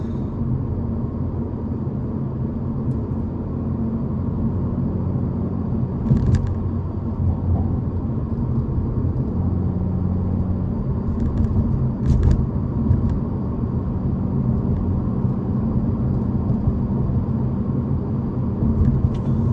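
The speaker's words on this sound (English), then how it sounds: "My stock exhaust." A Hyundai Elantra N's low stock exhaust drones steadily from inside the cabin while driving at night, a constant deep rumble with a few faint clicks.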